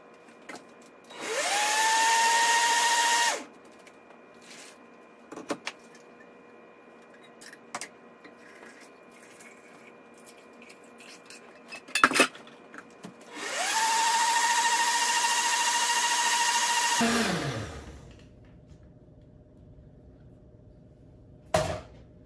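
Blender pureeing hot tomato soup with tender peppers, running in two loud bursts of a few seconds each, separated by quiet clinks and handling noises, ending with the motor winding down.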